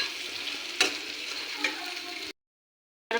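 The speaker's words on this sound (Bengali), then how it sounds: "গুঁড়াটা দিয়ে একটু নাড়াচাড়া করে নিলাম" Vegetables fry in a pan for a vegetarian sabji as chili powder is stirred in, giving a steady close sizzle with a couple of brief scraping knocks, then cutting to silence before the sizzle returns.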